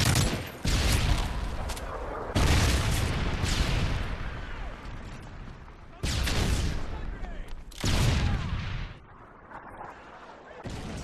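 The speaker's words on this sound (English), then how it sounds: "Friendly Predator missile inbound." Heavy blasts from a Predator missile strike in a video game, several loud booming explosions with long rumbling tails, separated by brief gaps and followed by quieter rumble.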